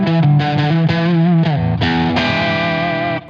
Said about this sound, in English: And then obviously all of the distortion.